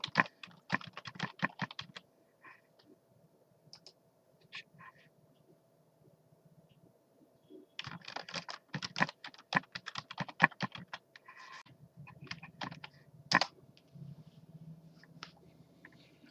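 Login username and password being typed on a computer keyboard: rapid bursts of close, crisp key clicks in two main runs separated by a quiet pause, with scattered single taps and a steady low hum underneath.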